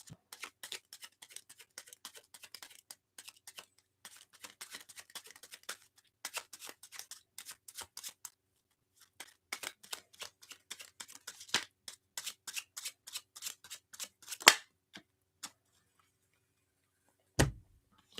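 Tarot cards are shuffled and drawn for a three-card pull, giving quick, soft riffling flutters in bursts, then a few sharper isolated taps and slaps near the end, close and fairly quiet with no talk.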